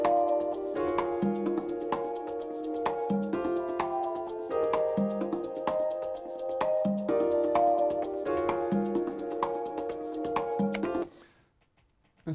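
A pitch-shifted sample tuned to fit a piano part, playing a steady repeating pattern of plucky, ringing tonal notes at moderate level for about eleven seconds before cutting off.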